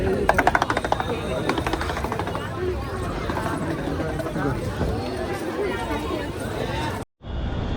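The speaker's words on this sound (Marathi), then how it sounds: "तर गर्दी जाम आहे." A busy street crowd in Ujjain, a dense, continuous roar of voices, footsteps and traffic, loud and close throughout, with a rapid clattering rhythm at the start and a brief dropout near the end.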